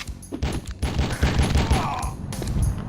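Gunfire from The Fifth Element PS1 game (1998), a rapid burst of repeated shots and blasts running in a dense, continuous volley across the whole stretch, loud and up front.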